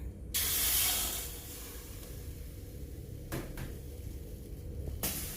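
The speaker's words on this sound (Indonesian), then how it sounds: "Tuang air panasnya." Hot water is poured into a 250-degree oven holding scored sourdough, setting off a sharp, loud burst of hissing steam at the start, followed by quieter background noise and a few faint clicks.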